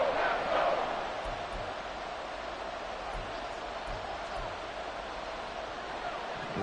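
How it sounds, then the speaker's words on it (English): A football stadium crowd roars in a steady, broad wash of cheering and noise that stays constant throughout, loud but somewhat distant. "This crowd doing all they can."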